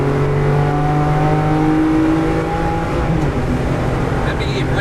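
A car on a race track accelerates out of a corner with the throttle opened, the engine droning loudly and steadily with rising harmonic tones and tire and wind roar, close and continuous throughout.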